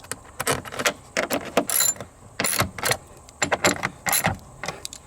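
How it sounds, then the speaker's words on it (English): Ratcheting wrench snugging 10 mm bolts on a Jeep Wrangler JK air filter box, heard as close, bursty metallic clicks and clatter in short irregular runs with brief pauses, no talk. "I'll just give them like half a turn with the wrench."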